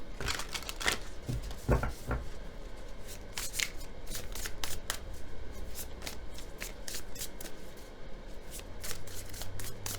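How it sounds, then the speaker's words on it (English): A deck of tarot cards being shuffled close up, a series of crisp riffling bursts and soft slides, fast and uneven at first, then quieter rubbing and tapping, with no voices. "Let's shuffle the rest of the deck and see what else I can tell you."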